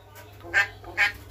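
A pet talking bird mimics the Vietnamese phrase 'có khách', meaning that guests have arrived. Two short, bright, close calls come about half a second apart over a quiet background, with no talking.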